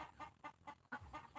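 A chicken clucks in a quick rhythmic series of soft, close calls, faint overall with a brief pause midway.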